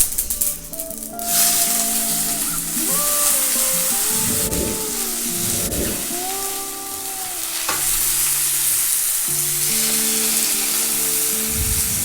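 Drumstick leaves, lentils and dried chillies fry in a pan of tempering oil. A continuous close sizzle runs under repeated scraping and stirring strokes, with no talk.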